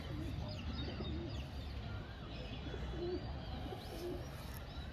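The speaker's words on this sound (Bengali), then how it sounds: "খুব সুন্দর পায়রা ভালো রেজাল্ট করা পায়রা" Pigeons cooing in a loft of pink-banded and chandtara-eyed breeding birds, a dense steady chorus of low murmuring coos and rustling, continuous and close throughout with no talk.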